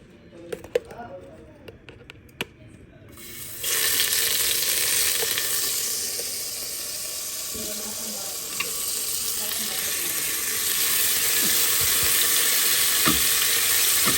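Garlic hits hot oil in a pan and a loud, steady sizzle takes over after some quiet clinks and handling; talk is heard during it.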